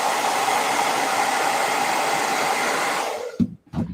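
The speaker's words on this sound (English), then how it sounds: "now you let that hit this with a blow dryer." A handheld blow dryer roars with a steady, loud, breathy whoosh while drying paint on a Cave Troll miniature, running continuously for about three seconds before switching off, followed by a couple of brief soft thumps.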